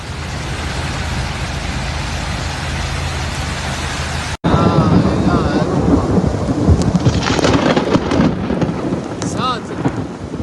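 Heavy rain pours down in Mecca during a storm, a dense loud roar of rainfall that cuts out abruptly and resumes with deep rumbling thunder, splashing and passing traffic mixed in.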